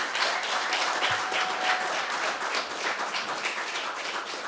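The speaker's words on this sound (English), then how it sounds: "Can we have a round of applause for Sarah and Zach and Alina?" A round of applause from a live audience at a community sharing event, steady dense clapping filling the whole stretch at moderate level with no voices over it.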